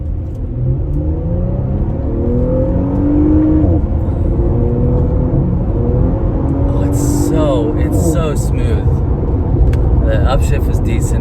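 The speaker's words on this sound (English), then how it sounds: "All right, we'll take off in the Panamera." A 2020 Porsche Panamera 4 with a 3-liter V6 accelerates hard from inside the cabin, a loud engine rumble climbing in pitch through gear changes, with a brief spoken exclamation over it.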